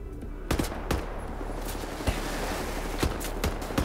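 Rifle shots crack out in a first-person shooter, Wolfenstein: The New Order, about eight sharp reports at uneven intervals over a steady background rumble.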